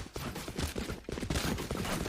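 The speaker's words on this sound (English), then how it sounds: "hear the 5 booms from the salvos" Salvo explosions in Valorant boom in a rapid cluster of several deep, punchy blasts, fairly quiet and close together in a short burst.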